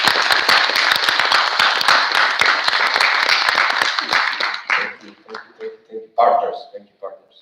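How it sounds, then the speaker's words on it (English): Audience at the NA YOLOmouc 2021 gathering breaks into a round of dense applause for about five seconds, then the clapping thins to a few scattered claps and trails off. "I feel like this deserves like a round of applause"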